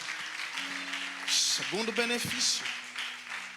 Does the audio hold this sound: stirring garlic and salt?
no